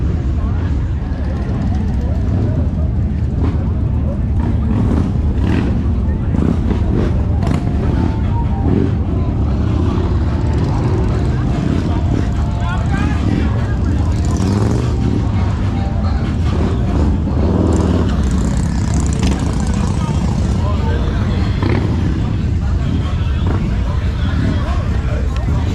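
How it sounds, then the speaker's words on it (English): Custom motorcycles, including Harley-Davidsons, roll past at the Born Free bike show, a continuous loud rumble of engines swelling and fading as bikes go by, with voices mixed in. "I could sit here all day and just watch bikes go by"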